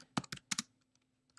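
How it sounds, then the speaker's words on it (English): Quick bursts of typing on a computer keyboard, a few close crisp keystrokes in clusters followed by sparse lighter taps, with no voices. "I can immediately just start typing"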